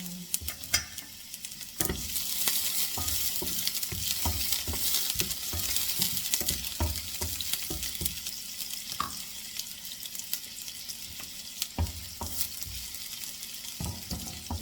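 Onion sautéing in a pan for a talong with tuna dish, a continuous crackling sizzle with frequent sharp scrapes and taps of a spatula stirring against the pan.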